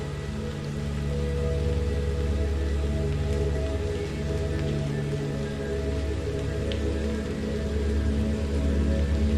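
Steady rain patters on a surface, a dense and even hiss with no voices.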